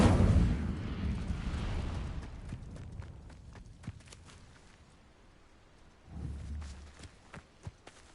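An Incendio fire spell erupts in Hogwarts Legacy on PlayStation 5, opening with a heavy rumbling blast that fades over a couple of seconds, then scattered sharp hits and a second low burst later on.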